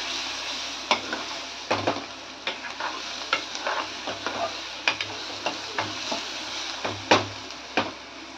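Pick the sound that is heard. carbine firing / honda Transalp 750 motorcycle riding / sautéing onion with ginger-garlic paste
sautéing onion with ginger-garlic paste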